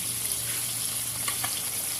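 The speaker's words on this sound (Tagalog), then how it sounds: "kumukulo na po pala ang sabaw at lalagyan na po natin ng isda" Fish broth simmering in a pot for a Filipino pesang kulapo as fish is added, a steady bubbling hiss running throughout with a couple of faint splashes near the end.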